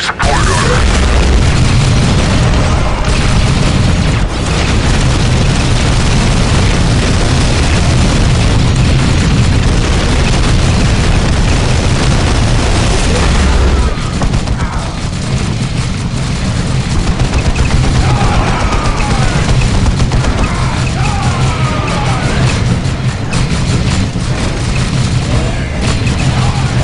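Artillery fire support explosions in the Warhammer 40K Dawn of War Soulstorm video game, a loud continuous barrage of booms and rapid gunfire bursts, with battlefield voices shouting over the din.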